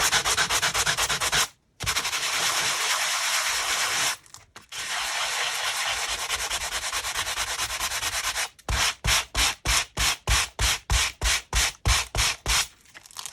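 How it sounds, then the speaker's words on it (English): Steady, gritty sanding scrapes from a sanding block removing paint from an aluminium can, back and forth over the hard metal, long continuous strokes at first, then quick rhythmic short strokes, close and loud. "So on one half, I'm just going to use this sanding block."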